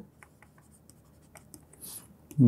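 A math solution is written out during a lecture in quiet, scratchy pen strokes in short bursts, ending with a louder thump.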